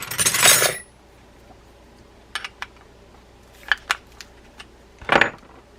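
Parts of a Garcia Mitchell 402 spinning reel being worked apart to take the top off: a loud scraping rasp, then sparse small metallic clicks and clinks, ending in another short scrape, all close up with no talk.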